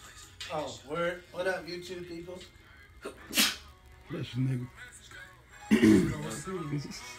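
A single sneeze bursts out at close range in the middle of casual indoor conversation, with several people talking before and after it.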